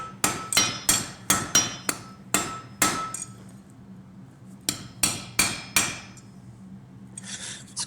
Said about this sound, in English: when I'm forging the end and making it more symmetrical, I'm simply holding it and hammering towards myself.